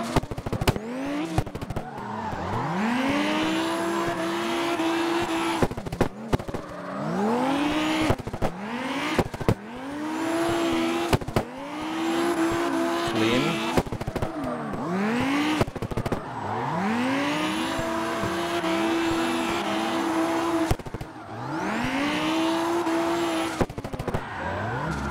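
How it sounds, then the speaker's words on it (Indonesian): A race car drifts in the CarX Drift Racing Online game, with its engine revving repeatedly in rising whines, broken by sharp shifts, tire squeals and abrupt cuts, loud and close without talk. "Mobil balap berdrift."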